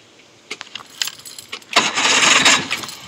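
An 85 hp Johnson outboard motor cranks and sputters, a few sharp clicks and rattles followed by a louder rough burst of engine noise that fades slightly toward the end.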